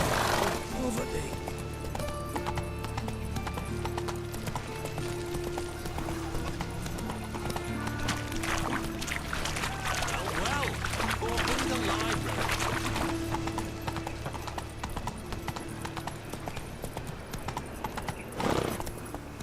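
Hooves of the horse Roach in The Witcher 3 game, a steady clip-clop of trotting under ambient game sounds, with a voice speaking over it and a brief whinny.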